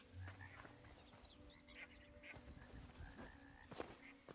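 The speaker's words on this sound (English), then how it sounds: "Oh, I think that's the frogs." Faint, scattered frog croaks and chirps in the video game Hytale pop up over a quiet, murky background, soft and irregular.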